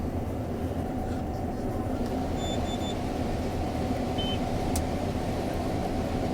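The engine of a loaded semi truck runs at a steady, close, low idle rumble, continuous and even, with a few faint high squeaks above it and no voices.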